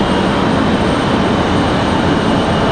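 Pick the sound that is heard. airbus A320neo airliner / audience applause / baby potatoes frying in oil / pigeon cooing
airbus A320neo airliner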